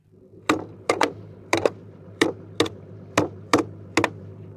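A screwdriver punches holes in cans of cat food used as bait, giving about ten sharp metallic clicks and taps, close and irregularly spaced, some in quick pairs.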